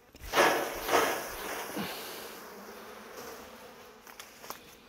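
Honey bees buzz around a hive frame being shaken during a varroa mite check, a soft steady hum with a few louder swells and light handling sounds close by.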